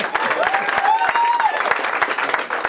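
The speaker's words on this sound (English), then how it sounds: "Yeah, better crowd would fucking clap." A small comedy show audience claps scattered and uneven, individual hand claps audible up close, while someone talks loudly over them.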